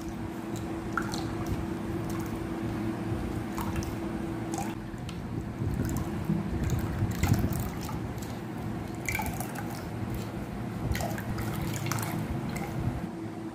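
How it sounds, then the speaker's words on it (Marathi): Ground coconut paste, blended with a little water, squeezed by hand to extract coconut milk for solkadhi; a steady close wet squishing and dripping runs throughout, with no talking. "पुन्हा वाटून घेतलेल्या खोबऱ्याचा व्यवस्थित रस काढून घ्यायचा आहे"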